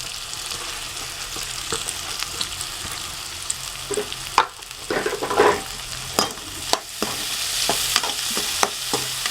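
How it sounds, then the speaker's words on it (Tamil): Onions frying in a pan for a fish puttu dish, a constant close sizzle broken by scraping, clattering stirs of a spoon against the pan, with no voices. "நல்லா வதக்கிக்கோங்க"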